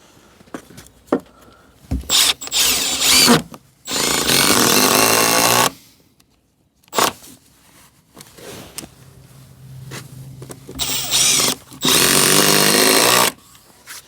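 A site crosscut saw cuts timber cladding in several loud, sustained bursts of a few seconds each, separated by quieter gaps with knocks from handling the wood, heard close up.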